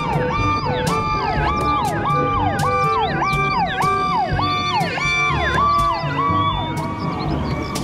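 A fire truck siren wails loud and close in a fast repeating up-and-down pattern, with traffic noise and a few sharp clicks underneath.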